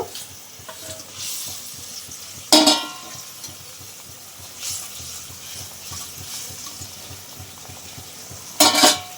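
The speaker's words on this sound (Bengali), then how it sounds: "জলটা ফুটে গেছে, মাছগুলো এবার ঢেলে দেব" Barramundi (bhetki) fish pieces tipped into a pot of boiling water, with two sharp splashing bursts rising over a steady low bubbling and hiss; no talking.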